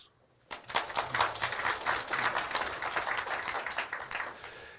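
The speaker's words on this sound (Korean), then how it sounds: "박수, 박수" Audience at a Korean farming lecture on JADAM organic pesticides claps after a brief silence, a dense, steady patter of many hands that holds for several seconds before fading slightly.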